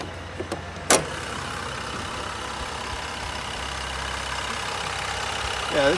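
A 2022 Dodge Ram 1500 Bighorn with a third-generation EcoDiesel engine idles steadily with a low, even rumble, after a sharp click near the start and a brief squeak near the end.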